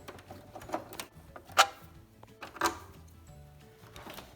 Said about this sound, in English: To get the front off, we'll need to remove these 2 screws on the top.